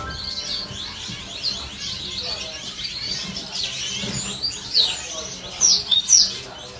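Imported blackthroat songbirds at a bird farm chirp with thin, high tweets that run through the background, growing into sharper, louder bursts near the end.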